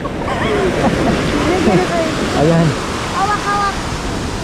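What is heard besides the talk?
big ocean waves on beach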